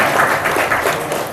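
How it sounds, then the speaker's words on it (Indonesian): Audience applause at a religious gathering in the Masjid Al Huda mosque, Kulon Progo: dense, steady clapping from a crowd, fairly loud and close, holding evenly through the moment with no pause. "Tepuk tangan untuk semuanya."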